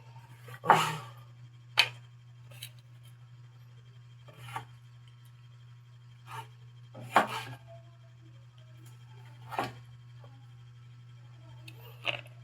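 A knife chops tomato on a board in a few separate, sharp strikes spaced irregularly over several seconds, each cut distinct and close against a low, steady background hum.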